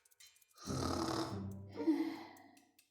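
Two long, rasping snores, one drawn-in and one exhaled, rise and fade in a slow rhythm, close and fairly loud.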